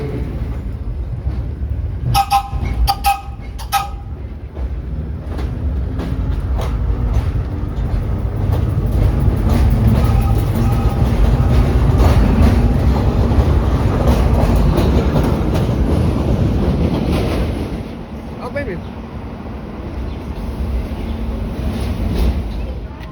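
A New York subway train pulls away from Brighton Beach station, wheels rumbling and clacking as it gathers speed, loud and nearby, with a few sharp clicks early and the noise easing near the end.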